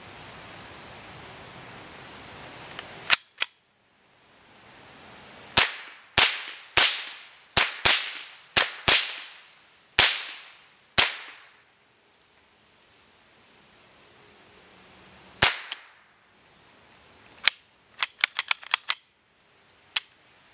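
Gunshots heard through Sony MDR 1000x noise-cancelling headphones: sharp single cracks spaced apart, then a quick cluster of shots near the end, each with a short decaying tail over quiet background hiss.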